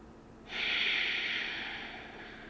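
A single deep, breathy inhale during a seated and kneeling recovery yoga flow starts abruptly, stays close and fairly loud with a hissing airflow, then tapers off slowly.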